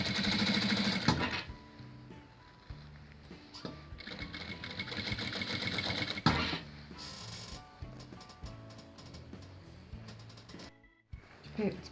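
A sewing machine stitching two fabric pieces of a baby blanket together, running in close, rapid mechanical bursts with brief stops and restarts, while a person talks over the sewing.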